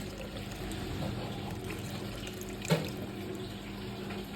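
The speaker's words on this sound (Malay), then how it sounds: "Dah pecah minyak, masukkan air." Water is poured into a pan of fish curry made with tongkol tuna, a soft, steady stream that stays faint and even, with one brief clack near the end.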